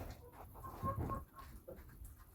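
Chickens cluck and murmur softly close by indoors in their winter coop, a scattered run of short calls with low rustling underneath and no talking.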